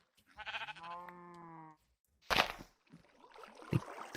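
A Minecraft sheep lets out a wavering, nasal bleat lasting over a second, followed after a pause by scattered game noises and a brief splashing sound.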